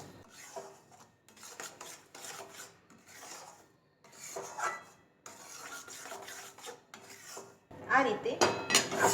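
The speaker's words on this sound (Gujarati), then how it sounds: "આ રીતે આપણે વારે વારે એને હલાવ્યા કરીશું" Besan being stirred and roasted in ghee in a pan over low heat for mohanthal: repeated scraping and rubbing of a spoon against the pan in uneven bursts, with a louder run of scraping near the end and no talk.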